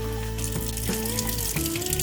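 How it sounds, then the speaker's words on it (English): Water runs from a tap into a container for soaking seeds, a steady close splashing pour with rising tonal ringing as the vessel fills. "go fill this with water"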